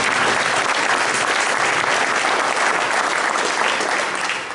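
An audience at a city council candidate forum applauds steadily throughout, a dense, even wash of clapping from a roomful of people with no break.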